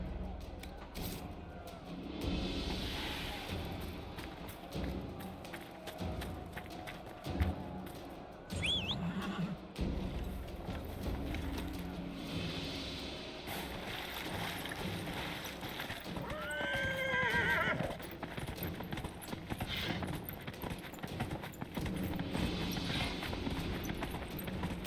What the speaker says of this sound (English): the horse riding's a little janky, but it's an interesting addition